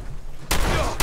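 Gunfire in Fallout 4: a dense, loud burst of shots erupts halfway through after a quiet lead-in, followed by a second sharp blast at the very end.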